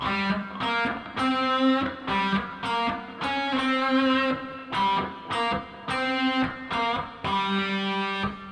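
A distorted electric guitar chugs through a choppy power chord riff played without the fourth string, chords stopping and restarting in a steady rhythm, loud and up close.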